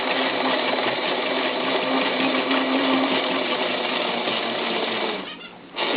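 Sewing machine stitching the edge of a hooked rug, a close continuous whirring hum for about five seconds that stops abruptly, then a short burst as it restarts.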